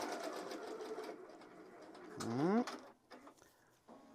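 An embroidery machine stitching merchandise runs a quick tack-down stitch, then its motor drives the hoop frame out with a brief rising whir, followed by a few faint mechanical clicks.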